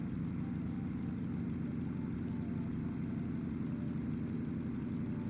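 V6 car engine idling in the CarX Street video game, a steady low rumbling hum with an even pulse, close and constant throughout with no revving or talk.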